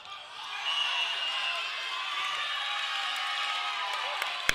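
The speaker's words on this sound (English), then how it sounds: "The crowd rooting on Albany." A high school volleyball crowd in a gym roots for Albany with a sustained wash of cheering and clapping, while a nearby commentator talks over it.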